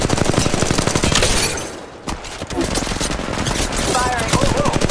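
Rapid automatic gunfire in the video game Apex Legends Mobile, loud repeated bursts that briefly drop away before resuming, with a voice speaking over the shooting.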